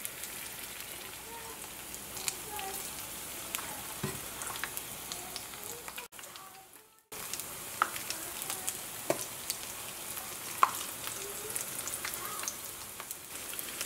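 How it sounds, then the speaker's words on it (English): Banana flower fritter batter frying in hot oil, a soft steady crackle and sizzle with scattered pops, close and fairly quiet, briefly dropping out partway through. "I'm going to scoop up small amounts and drop it into my oil"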